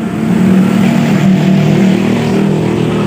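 A Honda Supra motorcycle engine is revved loud and close, a steady throbbing roar that holds for a few seconds without talk.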